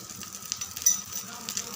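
Dosa-style batter hisses and sizzles in a little oil in a pan, a soft, steady crackle heard up close for a brief moment.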